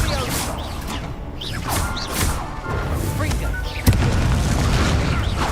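An Incendio fire spell cast in the Hogwarts Legacy video game: a dense, continuous stream of booming blasts, crashing impacts and whooshes, loud throughout with a sharp hit near the end.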